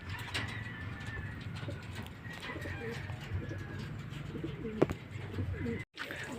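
Racing pigeons cooing softly at a home loft during a derby race, low and muffled under steady outdoor background noise and occasional movement, with no other clear sounds.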